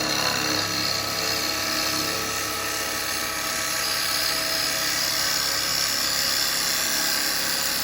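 A wood lathe turns a cherry almond natural bowl as a gouge cuts with its bevel rubbing, giving a loud, continuous, close whining hiss that holds steady throughout with no talk.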